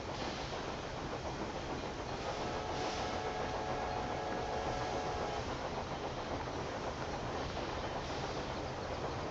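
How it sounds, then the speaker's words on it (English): A passing train in the Railway Empire 2 rail-building game rumbles as a steady broadband roar with faint rhythmic clatter, continuous and fairly loud across the whole stretch, with no talking. "I'm currently being held up by a train which shouldn't even be there"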